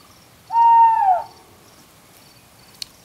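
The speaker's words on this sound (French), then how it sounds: "Un hibou poussa un cri" A single drawn-out owl hoot sounds once in the still night, clear and fairly close, followed by near silence and a faint click.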